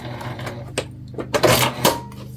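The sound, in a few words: sewing machine doing a back stitch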